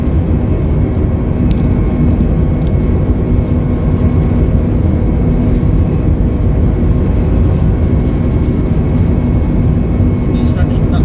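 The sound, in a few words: airplane engine on runway during takeoff roll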